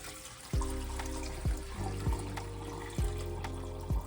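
Water draining from soaked beans in a sink, a soft steady trickle and pour broken by several low hollow thumps spaced about a second apart.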